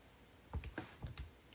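A handful of quiet clicks from fingers pressing buttons on a calculator keypad, four or five soft, closely spaced taps in a quiet room.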